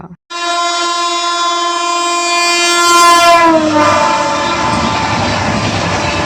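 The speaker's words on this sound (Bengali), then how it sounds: "এবার শুধু ট্রেন আসার অপেক্ষা" A train horn sounds loud and sustained for about three seconds at a station in Panskura, followed by the steady rumble and rattle of the train rolling in close by.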